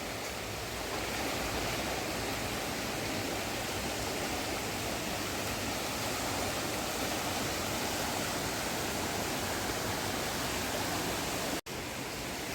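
Floodwater of the swollen Ganges surging through Haridwar, a loud, unbroken rushing roar of muddy river water that fills the whole stretch, cutting out abruptly for an instant near the end.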